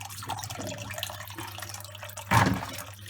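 Pumpkin pieces being strained as water drains off them in a kitchen, a soft trickle that swells into a short, louder splashing gush near the end.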